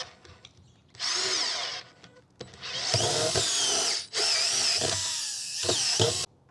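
Power drill fitted with an HSS four-flute step bit boring through metal, several loud whining bursts with short pauses as the bit bites and spins down, close and alone.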